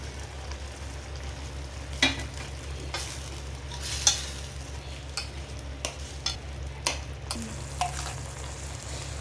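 Boiled drumsticks added to a curry with ginger-garlic paste and stirred in a pan, giving a low steady sizzle with irregular spoon scrapes and knocks against the pan, close by and without talk.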